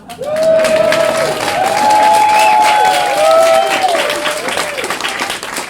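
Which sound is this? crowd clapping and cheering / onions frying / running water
crowd clapping and cheering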